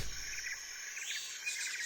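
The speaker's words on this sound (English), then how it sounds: "I love how we're just like hearing birds chirping and shit." Birds chirping in the Metal Gear Solid 3 video game: faint, quick high chirps in small repeated bursts over a steady insect-like hum of jungle ambience.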